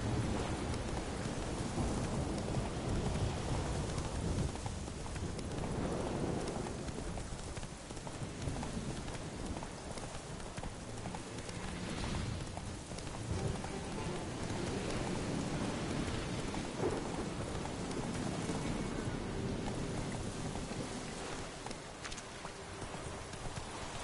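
Roach, a horse in The Witcher video game, trots through rain with steady clip-clop hooves, over constant rainfall and occasional rumbles of thunder.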